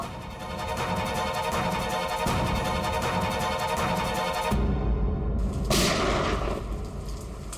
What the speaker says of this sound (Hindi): ये कहीं गोली चली है।